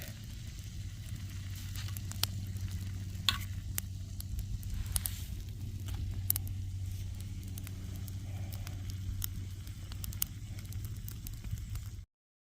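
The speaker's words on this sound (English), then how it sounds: "cooking supper" Supper fries over a fire at a trail campsite beside a lake, a steady low sizzle and crackle with scattered sharp pops and ticks that runs continuously at moderate volume.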